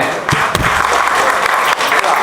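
Audience applause for a man's 50th birthday at a Nadar community gathering in Tamil Nadu, a dense, steady clapping filling the whole stretch with a few sharper claps standing out near the start.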